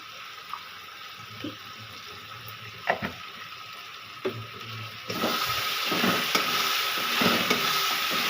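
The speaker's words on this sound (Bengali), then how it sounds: "দেখুন আমাদের মশলাটা কত সুন্দর এরকম করে সুন্দরভাবে কষিয়ে নিতে হবে" Masala spices for chicken curry sizzling in a pan while a spoon scrapes and stirs them. The frying hiss is steady and moderately quiet, with the sizzle growing louder partway through.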